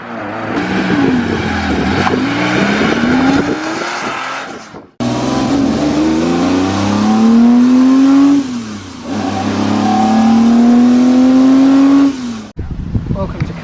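A Jaguar E-Type engine accelerates hard through several gears, pitch climbing and dropping with each shift, loud and close, with talking mixed in.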